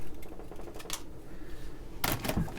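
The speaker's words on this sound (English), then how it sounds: "I'm just going to cut it with my scissors" Scissors snip through paper during journal crafting, giving a couple of short crisp cutting sounds close by, one brief around the first second and a longer rustling cut toward the end, over quiet room tone.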